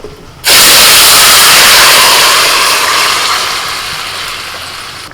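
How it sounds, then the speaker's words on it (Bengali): Hot oil bursts into a loud sizzle as fish curry broth is tempered with panch phoron and bay leaf. The hiss starts abruptly, stays strong and close, then slowly fades, with no speech. "তেলের মধ্যে সামান্য পাঁচ ফোড়না তেজপাতা দিয়ে আমি ঝোলটা একটু সম্বুড়ে দিচ্ছি"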